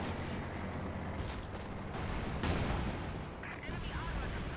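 Loud, dense battlefield gunfire from a Panzer IV tank in a World War II video game battle, with booming cannon shots and overlapping weapon fire filling the whole stretch without pause.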